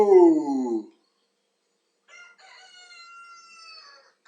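A rooster crows loudly and close, with a rising call at the start, followed after a silence by a thinner, sustained high tone near the end.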